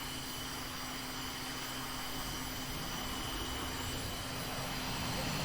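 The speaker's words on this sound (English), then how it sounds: "I've got the canopy open so I can hear the engines." The jet engines of an A-10D Warthog in the video game VTOL VR spin up with the canopy open, a loud, steady broadband roar with a sustained whine that builds slightly toward the end.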